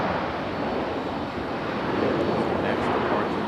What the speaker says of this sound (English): We go right to our 757 here.